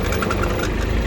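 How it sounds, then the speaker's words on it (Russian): Hinomoto CX16 mini tractor, also sold as the Kubota Aste A16, idling steadily with a low, even engine rumble close by and no talk. "Вот, собственно, такой трактор Hinomoto CX-16, он же Kubota Aztek A16."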